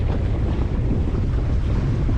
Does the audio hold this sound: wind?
yes